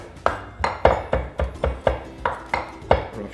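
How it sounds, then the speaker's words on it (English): Rough chopping of salad ingredients such as apple, beet and carrot on a cutting board, about nine sharp knife strikes in a steady, slightly uneven rhythm, close and clear. "We're gonna chop that"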